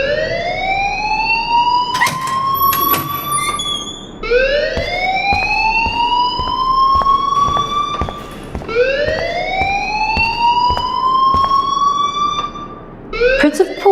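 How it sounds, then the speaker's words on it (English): An alarm in the Life is Strange video game repeats a rising, wailing siren tone in steady cycles of about four seconds, loud and continuous, with sharp clicks and knocks scattered through it. "please turn off that alarm since that's your job"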